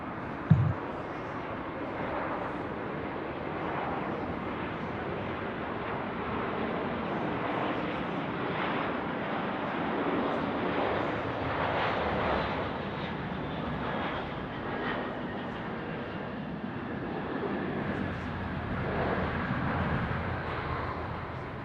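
Jetstar Airbus A321 airliner arrives at Sydney Airport on a foggy night. A continuous broad engine roar holds steady for about twenty seconds and swells gently as the jet passes, heard from a distance with no voices.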